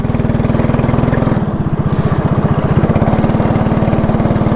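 Small go-kart engine idling and puttering steadily at the start of a ride at an amusement venue, a loud, close, even rhythmic chug with no talking.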